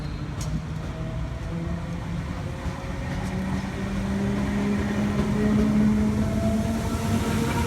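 A Sydney Trains service pulls away from a station platform, its rumbling low hum and faint rising motor whine building steadily and growing slightly louder as it departs, with no voices.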